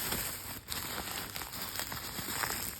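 A doll is unwrapped from its packaging, with close, continuous crinkling and tearing of wrap in irregular bursts and no voices.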